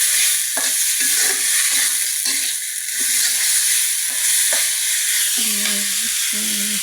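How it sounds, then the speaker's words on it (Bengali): Spices such as turmeric, chilli and coriander powder stir-fried together with other ingredients in village home cooking give a steady, close sizzle, with repeated scraping stirring strokes throughout and no talking. "সব কিছু একসাথে ভাজা হচ্ছে।"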